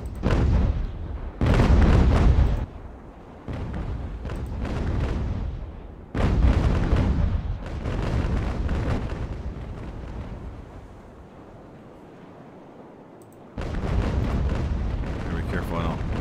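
Naval cannon fire from Age of Sail warships in Ultimate Admiral: Age of Sail booms in repeated heavy volleys, loud rumbling blasts in clusters separated by quieter rolling echoes, with a long lull before a final salvo.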